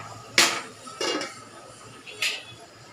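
A lid set onto a cooking pot of tomato-based Kolhapuri matar pulao over a low gas flame, giving a few sharp metallic clanks and clinks spaced close together, near and fairly clear against a quiet kitchen background.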